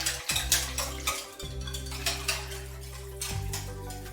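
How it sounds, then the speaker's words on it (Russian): Yeast is stirred briskly in a bowl until the crystals dissolve, with repeated soft clinks and scrapes of a utensil against the side in a quick rhythm, close up over a faint steady hum. "И вот сейчас хорошенько перемешиваю до полного растворения"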